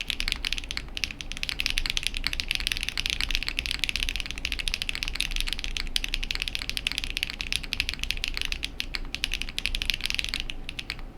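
Typing on a Paper80 TKL RGB mechanical keyboard, a dense, steady stream of close, crisp key clicks with a continuous rhythm, heard alone without any talk.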